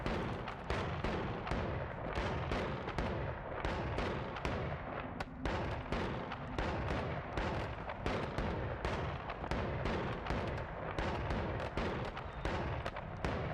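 Continuous rapid explosions and crackling blasts in the pixel-physics game Noita, a dense, steady barrage of thuds and pops that keeps going without a break, loud and close with no voice.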